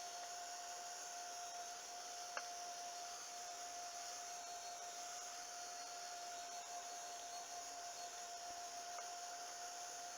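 A handheld dryer blows continuously on mixed media craft tags, giving a steady, even whir with a constant tone and no pauses, faint and alone.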